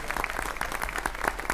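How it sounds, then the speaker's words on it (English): An audience applauding at an economic development summit: dense, steady clapping from a crowd in a hall, brief and fairly quiet, with a faint voice underneath. "How about a round of applause?"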